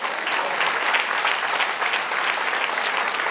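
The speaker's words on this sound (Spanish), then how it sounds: "Dale otro aplauso al Señor." Church congregation applauding during a sermon, a dense steady roar of many hands clapping that fills the room without pause.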